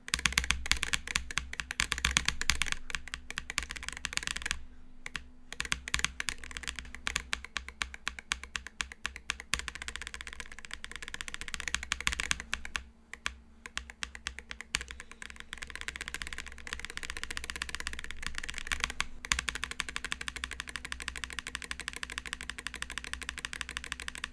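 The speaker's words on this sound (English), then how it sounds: "here's even a sound test of me playing OSU with this keyboard" Rapid, continuous clacking of a Wooting 60HE V2 mechanical keyboard under fast osu! play, dense bursts of keystrokes with a few short pauses, close and fairly loud.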